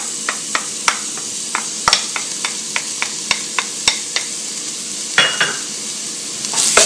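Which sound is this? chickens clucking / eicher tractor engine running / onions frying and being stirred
onions frying and being stirred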